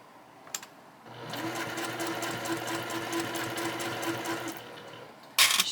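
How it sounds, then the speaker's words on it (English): A sewing machine stitches down a fabric tab on a small pouch, running in one steady close whirring burst of about four seconds with a fast mechanical rhythm, then stopping; a brief clatter follows at the end. "let's go sew these down"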